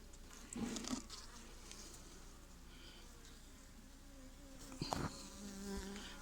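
Honeybees in a hive comb during early-season queen rearing, with young bees struggling to emerge from their cells, give a faint, steady insect buzz and hum with brief louder bursts of wing noise close by.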